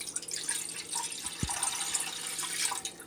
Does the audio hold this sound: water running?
yes